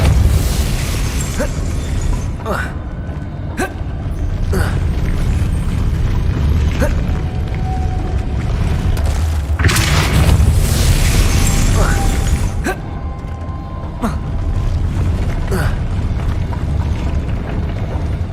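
Depulso spell casts in the Hogwarts Legacy video game, heard as a series of loud bursts and booming blasts with clattering game effects, and a voice speaking over the action.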